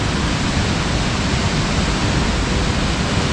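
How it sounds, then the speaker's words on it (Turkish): Waterfall in a Kastamonu canyon, dropping from modest height into a wide pool, a steady broadband roar of pouring water filling the whole clip, close and constant with no talk. "Şelale çok yüksekten dökülmüyor ama görüntüsü gayet güzel."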